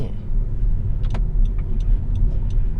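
Honda Civic FC 1.8 E sedan being driven, a steady low engine and road hum from inside the cabin with a few faint ticks, fairly loud and continuous without speech.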